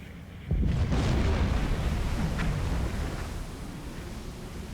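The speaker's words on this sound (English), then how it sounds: "Another good hit with the QT torpedo, but it seems to have had very little effect on this destroyer." A torpedo strikes a destroyer in the Silent Hunter 4 submarine game, a sudden deep rumbling blast that swells and holds as a broad roar before slowly easing over several seconds.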